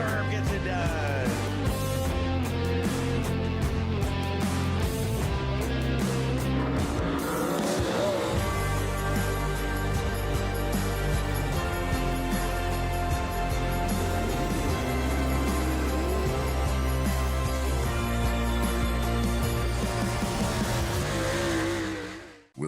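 MARS late model race cars at Fairbury Speedway roar continuously in a dense, layered engine drone with shifting revving pitches as the field races through the turns, fading out at the end.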